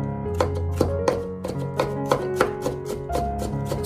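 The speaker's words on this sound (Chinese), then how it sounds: "然后再改刀剁成蒜末就可以" Quick repeated knife strikes mince garlic on a cutting board, a close, fairly even run of sharp chops with no speech.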